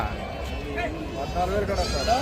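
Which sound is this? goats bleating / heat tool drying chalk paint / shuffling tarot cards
goats bleating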